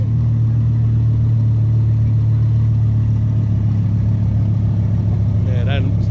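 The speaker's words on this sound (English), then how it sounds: "that sound is, it's a Lambo for real" Lamborghini engine at a Goldrush Rally car gathering in Dallas, a steady low idle rumble droning throughout with a brief rev near the end, under background crowd chatter.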